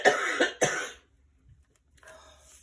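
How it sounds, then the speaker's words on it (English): A person coughs twice in quick succession, close up, followed by silence and a faint exhale. "I have to stop and cough every 5 minutes"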